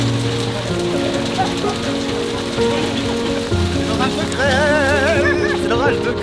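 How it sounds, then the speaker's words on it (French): Hail and rain pour steadily onto surfaces in the mountains during a short storm, a dense, continuous patter close by, with a voice talking over it near the end. "C'est l'orage de grêle."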